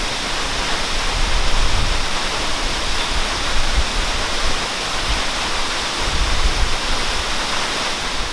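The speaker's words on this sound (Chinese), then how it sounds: "因为我觉得瀑布的声音可以让我静下来。" A steady, dense roar of falling water from a waterfall fills the whole stretch, broad and constant with slight surges, close and loud with no voices.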